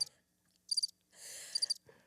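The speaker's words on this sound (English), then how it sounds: "I could hear crickets." Crickets chirp in short bright bursts, a few quick pulses then a longer trill and another pulse group, fairly close and clear against a quiet background.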